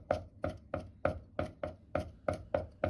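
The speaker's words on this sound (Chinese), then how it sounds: "先拍破，再剁碎" A kitchen knife chops crushed garlic and ginger on a board in nine even, crisp strikes about a third of a second apart, close and clear with no talking.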